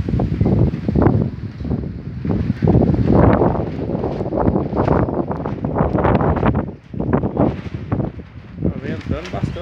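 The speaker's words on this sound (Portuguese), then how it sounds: "Ventando bastante aqui." Strong gusty wind blowing hard outdoors at home ahead of an approaching rainstorm, roaring and buffeting the microphone in loud continuous surges throughout, with a voice speaking over it.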